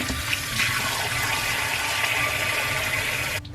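Water runs steadily while someone wets their face with a reusable cleansing cloth, a continuous close hiss and splash that cuts off abruptly near the end.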